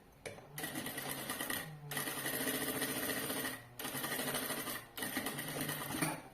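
A sewing machine runs a finishing seam on a fabric bag that converts into a backpack, its fast needle rattle running in three long bursts with brief pauses between, close and steady with no talking.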